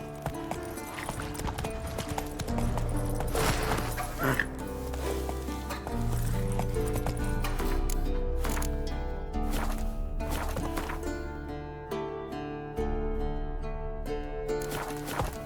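Roach the horse galloping in Witcher 3, a steady, rapid clip-clop of hooves running close and loud throughout, with game music and ambience underneath.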